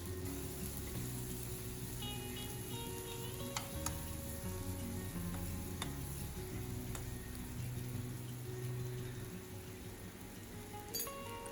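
Biryani masala cooks in a pan after coriander and lemon juice are added, giving a steady, faint sizzle throughout with occasional light clinks and scrapes of a spoon mixing it.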